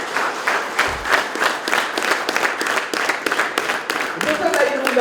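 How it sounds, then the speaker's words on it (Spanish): A congregation at an evangelical church service breaks into sustained, dense applause that fills the room, with voices mixed into the clapping. "démosle un fuerte aplauso al Rey de Reyes y Señor de Señores"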